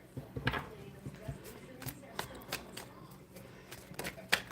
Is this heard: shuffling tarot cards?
yes